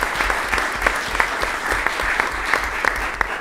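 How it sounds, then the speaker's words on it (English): Audience at a commission meeting breaks into steady applause, a dense wash of many hands clapping at even loudness throughout, with no voices over it. "give him a round of applause"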